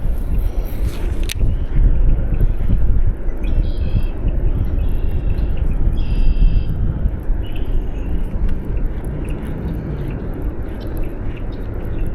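A loud, steady motor drone with rushing water and wind noise, continuous throughout as a motorboat pushes through the shallow Fox River, with faint birds in the background.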